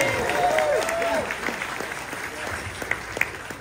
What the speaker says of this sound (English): A round of applause for Vim.